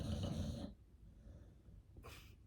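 A pet named Peanuts gives two faint, close snoring breaths, a longer rasp at the start and a short snort near the end, with quiet stillness between.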